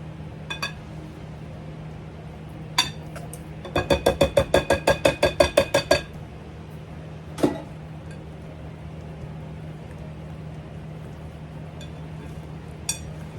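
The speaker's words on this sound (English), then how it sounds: "We're gonna mix this all together." Cornbread batter mixed with cream of corn in a bowl: a quick burst of about a dozen rhythmic clinks of a utensil against the bowl, with a few isolated taps before and after over a low steady hum.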